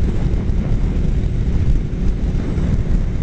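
A motorcycle engine idling with a low, rolling rumble, heard close and loud as a steady, dense bass throb mixed with wind buffeting on the microphone, with no voices.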